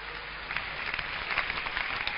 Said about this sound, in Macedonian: ќе ве замолам за еден огромен аплауз